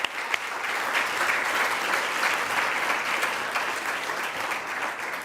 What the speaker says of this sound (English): I think we can give you guys a huge round of applause.